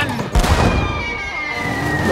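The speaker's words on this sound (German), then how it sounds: "Kanonenkugel abfeuern!" One heavy boom of a cartoon pirate cannon firing, followed by a lingering high ringing tone.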